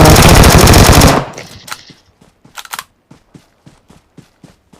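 Video game gunfire: a long, loud burst of rapid automatic shots up front, then a quieter scatter of lighter clicks and taps spaced out afterward.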